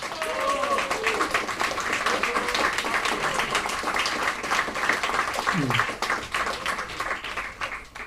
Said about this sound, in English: let's give a round of applause to Paco De La Banda